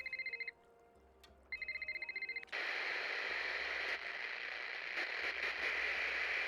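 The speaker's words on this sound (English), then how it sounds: "we were just waiting for a phone call" An electronic telephone in the Nancy Drew game Shadow at the Water's Edge rings in two clear bursts of repeated tones, each followed by a pause, then gives way to a loud, steady hiss of static.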